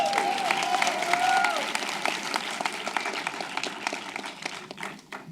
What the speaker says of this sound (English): Can we give London a round of applause really quick?